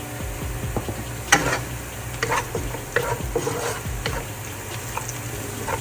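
A big onion fries with salt in a pan, a steady sizzle broken by repeated clicks and scrapes of a spatula stirring. The sound is close and no one speaks.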